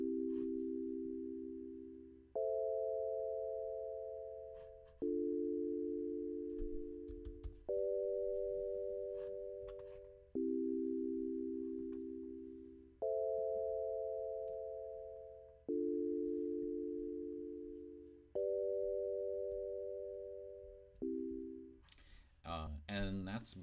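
Sonic Pi synth chords cycle through a 1-6-2-5 diatonic progression at a quicker tempo of about 90 BPM, with eight or nine evenly spaced chord hits that each decay before the next one lands.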